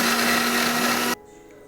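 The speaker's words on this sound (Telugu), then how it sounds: "మొత్తం వాటర్ పోయేంత వరకు ఇలా ఆరబెట్టి మిక్సీ జార్లో వేసుకొని మిక్స్ పట్టండి" A mixer grinder whirs loudly for about a second while grinding garlic and chili in its jar for a spicy powder, then cuts off abruptly to near silence.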